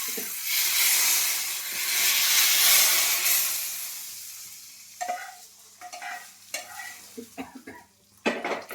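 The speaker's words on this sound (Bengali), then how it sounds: "জিরে করেছি আর শুকনো লঙ্কা ফোড়ন দেবো" Cumin and dried red chillies sizzle loudly in hot oil as a tempering for bottle gourd moong dal, a broad hissing roar that fades after a few seconds and gives way to close spoon scrapes and clinks against the pot.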